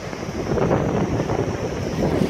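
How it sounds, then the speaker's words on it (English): Wind buffets an outdoor microphone on a blustery night, a steady close rumble and roar with no pauses. "so it's a little windy tonight"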